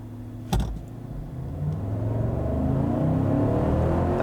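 A 2021 Cadillac Escalade Sport Platinum SUV with a 6.2-liter V8 launches at full throttle after a brake-torque start, a sharp thump followed by a steadily rising, loud engine roar that builds continuously as it accelerates.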